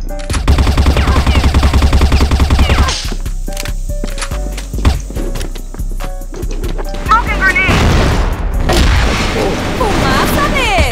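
Rapid bursts of automatic gunfire and explosions in the online shooter CrossFire, with dense repeated shots at the start and then scattered blasts and impacts throughout, while players talk excitedly over the action.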